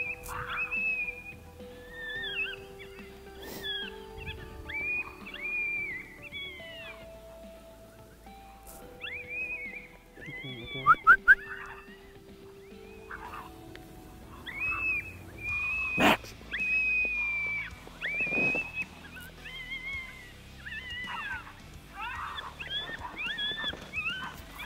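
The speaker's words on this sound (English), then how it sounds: "pup fighting, some coyote fighting, hoping to really trigger an aggressive response so the coyotes come to the call" An electronic predator call plays coyote pup fighting sounds on a South Dakota prairie: repeated high yips, whines and squeals come in steady clusters at moderate distance, with faint wind and scattered knocks, and nobody speaks.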